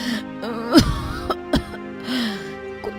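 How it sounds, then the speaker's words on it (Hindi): A woman with a worsening cough, sitting in a courtyard, coughs and clears her throat in a few sharp bursts spread across a short, otherwise quiet moment, with no one speaking. "ये कैसी खांसी है?"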